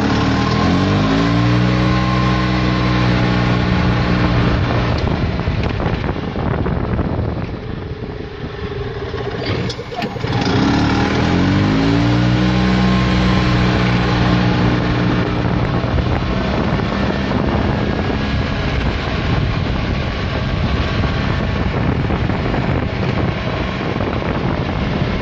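Fuel-injected 2002 EZGO TXT golf cart with a Robin 295 engine accelerating, its small engine revving up and through gears in rising whines, loud and close with heavy wind buffeting on the microphone throughout.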